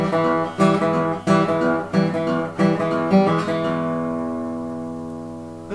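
Acoustic guitar fingerpicked in E in a blues style, with a shared alternating bass under treble notes in a bouncy pulse, ending on a long ringing chord, close and alone without talk.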